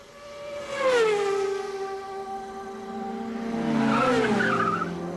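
A voice imitates racing vehicles with a long whining tone that sweeps down and rises again, like an engine roaring past and revving up.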